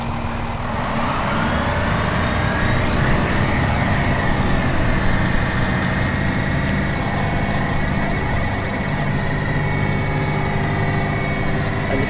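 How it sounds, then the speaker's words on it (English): Five-car train in Train Simulator 2018 accelerating on the line to London Marylebone, giving a steady, loud mechanical drone with rising tonal whine and low rumble throughout, alone with no talk. "You can see the acceleration on this train is very good."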